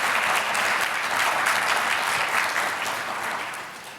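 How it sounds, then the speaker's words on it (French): Sustained applause from the audience at a high-level roundtable on Black health, a dense, even roar of many clapping hands that holds steady and then gradually fades toward the end. "est-ce qu'on peut l'applaudir encore une fois?"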